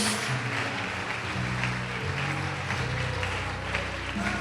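Congregation applauding during an evangelical church service, a steady wash of clapping that holds at moderate level throughout, with music or a low drone faintly underneath.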